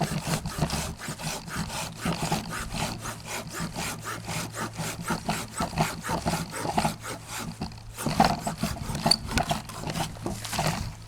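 A Silky Bigboy Japanese folding hand saw cuts through wood with fast, steady rasping strokes that repeat evenly throughout, loud and close, with a brief pause near the end before the sawing resumes.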